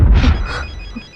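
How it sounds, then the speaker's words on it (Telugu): A telephone rings in a tense action film scene, giving a short burst of bright, repeated electronic ring tones that start loud and fade slightly over about a second, with no one speaking. "రింగ్ అవుతుంది."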